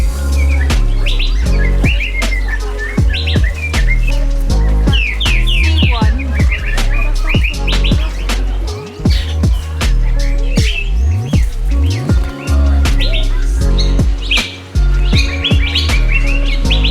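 Many birds chirp and sing busily in a large refurbished aviary at Waddesdon Manor, dense overlapping calls and whistles filling the space continuously, close and loud, with no talk.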